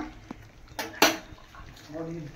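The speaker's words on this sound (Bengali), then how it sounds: "তো এবার ঢাকা খুলে ভালো করে কষিয়ে নেবো মাংসটা।" A lid clatters off a cooking pot, followed by metal clanks and scraping as chicken kosha is stirred close up, with a brief soft voice near the end.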